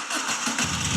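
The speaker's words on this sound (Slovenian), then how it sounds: "Zdaj moraš še enkrat vžgati gucija" A Moto Guzzi motorcycle engine cranks and catches, settling into a loud, close, rough running rumble over about a second.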